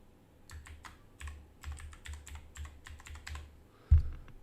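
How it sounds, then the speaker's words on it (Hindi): Typing an email address on a computer keyboard, a fast patter of key presses in quick bursts, close and clear, with a heavier thump near the end. "तो यहाँ पे ईमेल मैं लिख देता हूँ"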